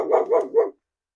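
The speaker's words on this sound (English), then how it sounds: "She doesn't have that puppy bark anymore, does she?" A dog gives three quick, close barks in a row, loud and alone, then falls silent.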